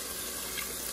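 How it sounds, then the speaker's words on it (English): Water poured into a pan of bihon noodles during home cooking, a steady broadband splashing and hiss lasting the whole moment, close and moderately loud with no talk. "so we will add water."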